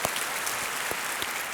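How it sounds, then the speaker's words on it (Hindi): A studio audience at a quiz show applauds to welcome a returning contestant, a dense, steady burst of clapping filling the short moment with no voices over it. "तालियों के साथ इनका स्वागत किया जाए।"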